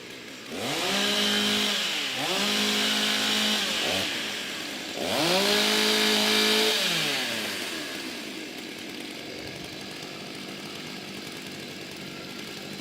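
Chainsaws warm up at the 2022 STIHL Timbersports U.S. Women's Championship, revving loudly in several rising and falling bursts, then dropping to a lower idle.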